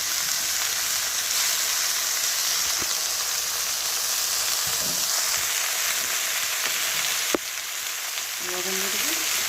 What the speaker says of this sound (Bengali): পেঁয়াজটা কুচি কুচি করে ভাজা হয়ে গেলে এইবার শাকটা দিয়ে দিলাম।